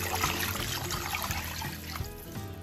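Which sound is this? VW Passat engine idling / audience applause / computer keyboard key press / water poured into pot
water poured into pot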